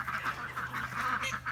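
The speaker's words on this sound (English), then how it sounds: "There's the call ducks in the front and then there's the big ducks in the back." Call ducks and larger ducks kept together in a homestead poultry yard honk and quack in a continuous loud chorus close by, with no talk over it.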